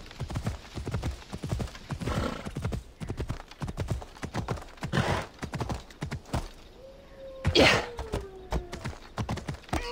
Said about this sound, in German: Pferd, mach doch mal Galopp.